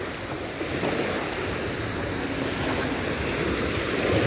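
Steady rush of Adriatic Sea surf washing onto the shore at Durrës, Albania, in the evening, with wind noise blowing across the microphone throughout.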